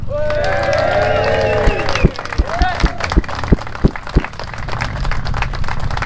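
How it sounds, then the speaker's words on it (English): A crowd gives a short burst of clapping, mostly a handful of distinct, separate claps, with voices talking in the background throughout. "can you clap again so I can get it? And then I'm going to say island and then everyone cheer."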